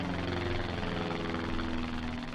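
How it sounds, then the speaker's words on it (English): A jet airplane takes off on the runway level of the video game GoldenEye, shown as Xbox gameplay, a steady droning engine roar with a low hum, even in loudness and without talking. "just to see the airplane taking off is giving me so much joy"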